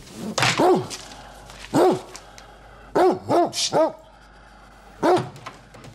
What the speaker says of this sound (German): Was ist denn das für ein lieber Hund?